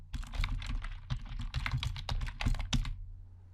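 Rapid clicking of keys on a computer keyboard as a file name is typed in a Python IDE, a close, busy run of keystrokes lasting about three seconds before stopping.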